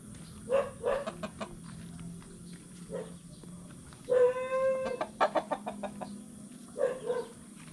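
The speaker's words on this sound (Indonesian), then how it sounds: "banyak ayam di sini." Chickens cluck in short, scattered bursts, with one drawn-out squawk partway through, close by against a quiet outdoor background.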